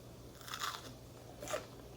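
Two crisp crunchy bites into the crust of homemade focaccia bread, close to the mic and fairly quiet, with a brief chewing crackle between them.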